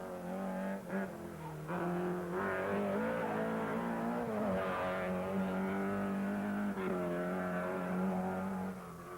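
A rally car on the 1983 Monte-Carlo Rally momentarily locks up a front wheel, with a loud, steady engine drone and shifting revs carrying on throughout.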